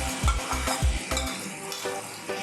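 Boiled eggplant mixed with masala is stirred in a pan, a spoon knocking and scraping the metal in a quick run of thumps before settling into a softer sizzle and shuffle, close and alone.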